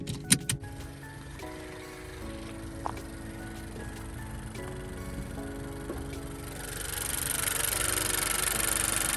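Turbocharged four-cylinder engine of a 2017 Honda Civic Hatchback idling and pulling away, a low steady hum with faint whines, a few sharp clicks early on, then growing louder hissing and rushing sound as it moves.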